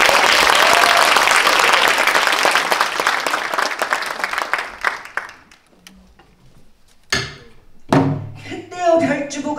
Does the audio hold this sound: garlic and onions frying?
no